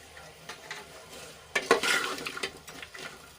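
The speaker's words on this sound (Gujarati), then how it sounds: "સરસ રીતે મિક્સ કરીને આપણે એને થોડી વાર માટે સાંતળી લેવાનું છે" A spoon scrapes and stirs through spices and crushed peanuts in a pan of hot oil, a few quick metallic strokes over a soft sizzle, close and fairly loud.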